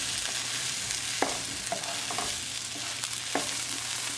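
Taro root and pea sabzi stirred in a hot pan produces a steady sizzle with several distinct scraping clinks of a spoon against the pan, close and moderately loud, with no talk.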